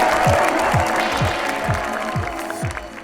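Applause from the audience at a festival runway fashion show, a dense steady patter of many clapping hands, with a regular low thumping beat underneath.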